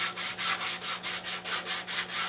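320-grit sandpaper scuff-sands a finish in steady back-and-forth strokes, about ten even rasping swipes in a regular rhythm. The sound is close and clear, with no talking over it.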